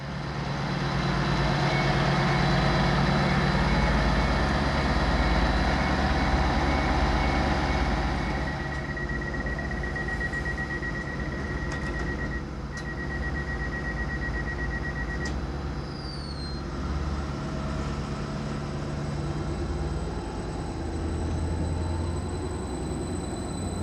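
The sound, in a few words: Greater Anglia train passing through a station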